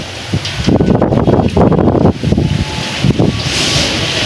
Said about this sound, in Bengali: কুকু ও কি হাওয়া ভাই